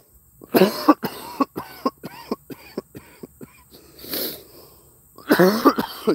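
A burst of harsh coughing, then a run of short, sharp coughs and throat noises, ending in another strong cough; close and loud.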